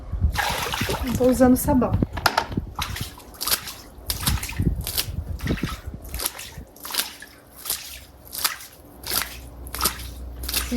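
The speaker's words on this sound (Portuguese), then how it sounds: "Deixa eu botar mais um pouco de água pra lavar." Water splashing and dripping as a brush scrubs a garden surface, with short irregular splatters and trickles close by under a woman's speech at the start.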